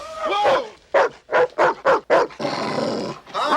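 A dog barks in a rapid series of short, sharp woofs, close by, mixed with a rough snarling sound and a bit of voice.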